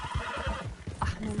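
A horse in Red Dead Redemption 2 lets out a short, loud, close neigh with a few faint hoof clops beneath it, and no one speaks.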